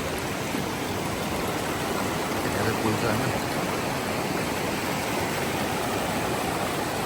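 A mountain stream at a riverside fishing camp flows steadily, a broad continuous rush of water filling the whole clip, with people talking over it.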